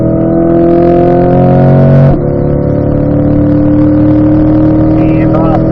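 A car engine winds out at full throttle, its tone rising steadily, then drops sharply on the upshift to fifth and pulls again, loud and close from the cabin with a voice speaking briefly.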